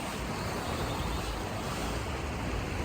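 Ocean waves and surf roll in a steady broadband wash, constant and fairly loud, with wind rushing over it and no voices.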